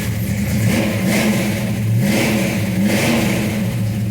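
Close, loud revving from a 1968 Mercury Cougar V8 with an electric fuel pump, the engine rising and falling in repeated blips over a steady rumble, with no voices.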